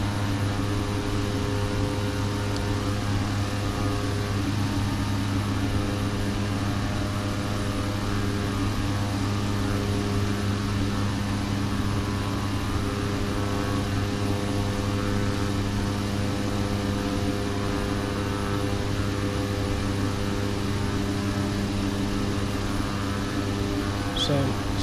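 A simulated airplane engine in Flight Simulator X drones steadily during descent, a continuous loud hum with strong tonal bands and a constant broadband roar lasting the whole stretch, with no talk.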